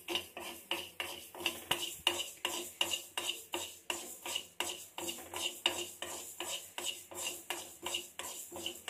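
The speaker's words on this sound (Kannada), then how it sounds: "ಸ್ವಲ್ಪ ಡ್ರೈ ರೋಸ್ಟ್ ಮಾಡೋಣ ಅದನ್ನು" Mustard and fenugreek seeds are dry roasted in a pan, with a steady, rhythmic metallic scraping and rattling as they are stirred continuously. The stirring sounds close and has no talking over it.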